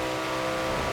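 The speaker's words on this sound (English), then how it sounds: "listen what happens when it changes into 6th gear. Brrr, and the speed goes down." Car engine in the Forza Horizon 4 racing game droning steadily at high revs with a dense, buzzy tone, held constant through a short stretch with no clear break for the gear change.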